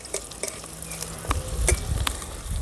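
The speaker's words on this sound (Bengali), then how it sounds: "বড়াগুলো আমি উল্টিয়ে দেবো দেখো কত সুন্দর মোচমোচে হয়েছে" Thankuni leaf fritters sizzle steadily in hot oil as they are flipped in the pan, with a few soft clacks and scrapes of the spatula cutting through the constant close frying hiss.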